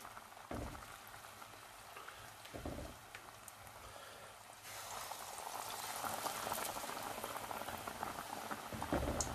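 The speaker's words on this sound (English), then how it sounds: "when you're laying anything into hot oil, you lay it away from yourself so it doesn't splash back." Battered chicken pakoras sizzle in a pan of hot oil, a continuous crackling fry that grows louder and busier as more pieces go in, with a few sharp spits and no talking.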